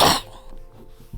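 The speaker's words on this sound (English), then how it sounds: "I apologize for all my coughing." A single harsh cough bursts out at the start, followed by a quieter throaty rasp and a small second cough near the end.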